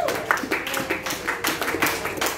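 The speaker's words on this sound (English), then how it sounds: "Clap your hands and give God praise." Rhythmic hand clapping from a congregation at a church prayer service, steady repeated claps carrying on together over a low background murmur.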